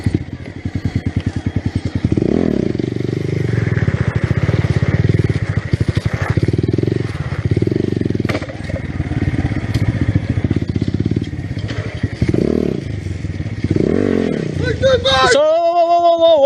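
A motorcycle engine runs steadily on a road, its low pulsing rumble rising and falling with throttle changes throughout, close and loud, with voices talking over it.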